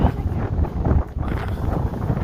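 Strong wind on a mountain trail from Carver Gap to Doll Flats, gusting loudly against the microphone in uneven, rumbling bursts.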